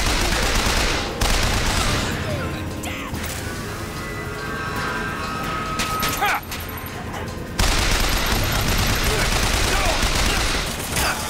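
Gunfire in Bioshock Infinite: loud bursts of rapid shots open and close the stretch, with quieter scattered shots and mechanical clatter in between, set in a busy game-combat soundscape.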